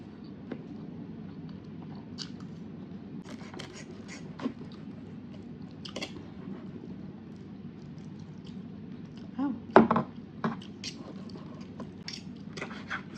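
Crunchy bites of crispy fried food with a crisp base and runny egg yolk, eaten over rice with garlic, come as faint, scattered crackles against a low steady hum, with a louder cluster of crunches midway.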